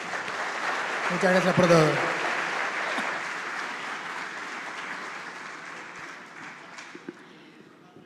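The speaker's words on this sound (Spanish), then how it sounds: "Les propongo un fuerte aplauso a los expositores" Audience applause for panel speakers at a regional forum on Latin American service stations, a broad steady wash of clapping that slowly fades, with someone briefly speaking Spanish over it early on.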